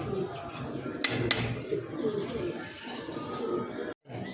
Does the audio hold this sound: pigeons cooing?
yes